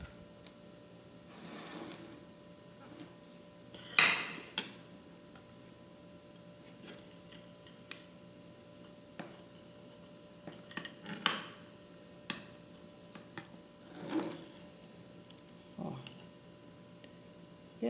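A fork and spoon clink faintly against a bowl while bread pudding batter is mixed, with scattered light taps and a few sharper knocks over a quiet kitchen background.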